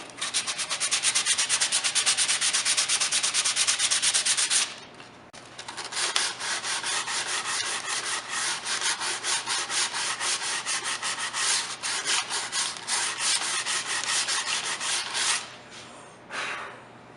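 Sandpaper, including 100 grit, is rubbed across the wood of a serving tray kit with close, steady, scratchy strokes. The sanding pauses briefly twice, and no one speaks.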